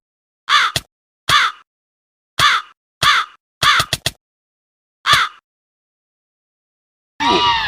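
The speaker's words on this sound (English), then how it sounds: "How do I feel about this crow?" A crow near a window gives a series of short, loud, harsh caws, spaced irregularly with silent gaps between them, then a longer call at the end.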